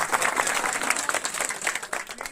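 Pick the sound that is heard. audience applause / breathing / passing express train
audience applause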